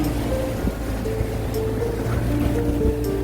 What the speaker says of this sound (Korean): 파도가 엄청 셉니다